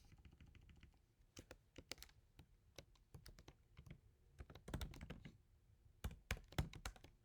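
Quiet typing on a computer keyboard during coding work, with irregular clusters of light keystrokes and short pauses, close up and without speech.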